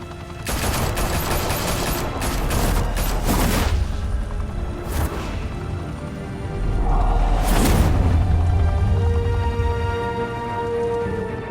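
Gunfire from Batman: The Telltale Series, with rapid bursts of automatic fire and sharp shots mixed with whooshes and deep booms, loud and close, swelling again after a brief lull.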